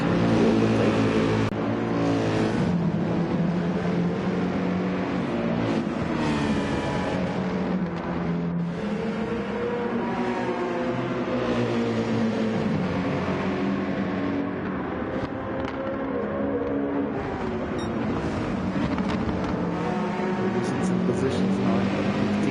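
Race cars in GT7 battling closely, one overtaking, with engines droning loudly and continuously, pitch rising and falling through gear shifts over the whole stretch, while someone talks over the engine noise.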